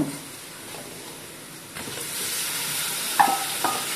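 Onions frying with pepper, stirred in a pan: a soft sizzle that swells louder partway through, with a few scrapes and a small clink near the end, no voices.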